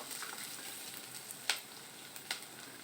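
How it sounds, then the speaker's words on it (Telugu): Ginger garlic paste frying in a pan for shahi paneer, a steady soft sizzle with a couple of brief sharp crackles or utensil clicks, fairly quiet and with no talking. "కొంచెం అల్లం వెల్లుల్లి పేస్ట్ వేసి ఫ్రై చేసుకోవాలి"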